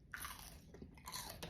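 Crunchy Indian jalebi being bitten and chewed up close, with several crisp crunches at the start, in the middle and near the end, no talking.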